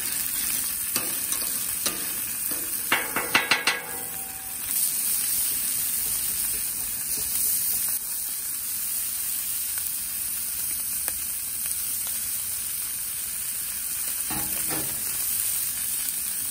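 Shrimp frying in bacon grease on a Big Green Egg ceramic grill, a steady close sizzle running throughout, with a few sharper scraping or spattering bursts near the start and again toward the end.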